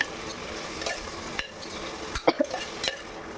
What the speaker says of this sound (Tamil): இப்போ நல்லா நம்ம வந்து மிக்ஸ் பண்ணிக்கலாம்.